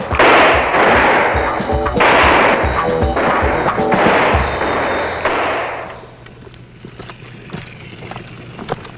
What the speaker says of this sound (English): This is one of many opportunities the recruits will have to qualify with their rifle.